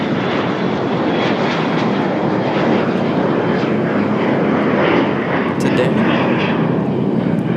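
A fixed-wing airliner departing on runway 30 at an international airport gives a loud, sustained engine roar throughout, with a person talking over it.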